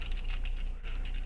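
Fast, light keystrokes on a computer keyboard, a steady run of close clicks and taps with a brief pause near the end and no talking.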